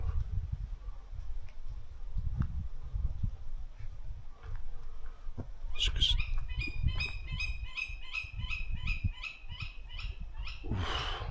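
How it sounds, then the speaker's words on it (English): Low breezy rumble, then an owl calls in a rapid series of repeated hoots from fairly close, ending with a brief rustle, in an old cemetery by the Welsh slate mines. "That's probably an owl there."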